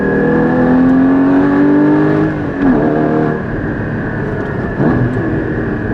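A Porsche 981 Cayman GT4 roars loudly as it accelerates hard on a Black Forest drive, its engine note rising steadily, then easing off and climbing again through the gears.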